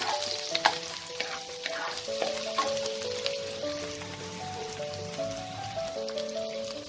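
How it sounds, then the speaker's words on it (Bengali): Thinly sliced onions fry in white oil in a wok, a continuous soft sizzle with crackly spatter and occasional stirring scrapes, heard fairly close without talk. "পেঁয়াজটাকে আমাকে ফার্স্টে লাল করে ভেজে নিতে হবে।"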